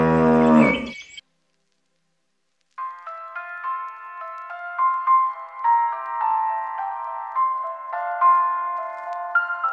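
Cattle lowing on a Kyrgyz farm where cows graze: a short, loud moo at the start, a pause of silence, then a long, drawn-out tonal moo close by, with no talk.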